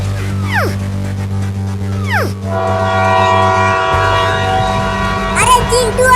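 A train rumbles past in a comedy sketch, with steady loud drone, repeated descending whistle-like horn blasts and a dog barking near the end, over music-like tones.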